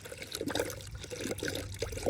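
Coolant poured through a funnel into a car's cooling system, a soft gurgling trickle with small bubbling splashes, close and quiet, continuous for a couple of seconds.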